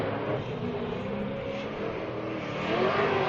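A supercharged V8 BMW drift car revs at a qualifying event, its engine a loud, sustained, droning roar that rises slightly toward the end.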